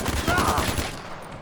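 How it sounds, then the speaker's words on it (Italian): Assault rifle fire in the Far Cry 4 video game, a rapid burst of repeated shots rattling close and loud over roughly a second, then trailing off into a brief echoing tail. "è troppo bello come è fatto proprio gli spari dell'arma"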